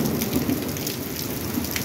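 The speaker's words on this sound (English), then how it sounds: "Okay, so there's hail bouncing around, which I was trying to get" Hail with rain is falling during a thunderstorm with cloud-to-ground lightning, making a steady dense patter and hiss with faint rumbling underneath and no voices.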